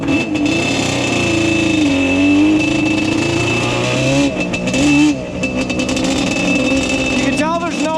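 A Yamaha Banshee ATV engine revs steadily through a warm-up, its loud, close two-stroke drone rising and falling in pitch, with brief throttle blips near the end and a voice talking over it.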